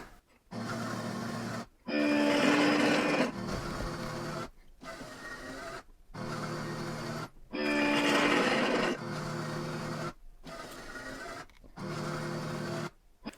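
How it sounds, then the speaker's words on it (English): A Roborock S7 Max V Ultra robot vacuum dock refilling clean water, pumping in repeated whirring cycles of about one to two seconds separated by brief silences, some cycles louder and higher-pitched than others. "And then the clean water is refilled."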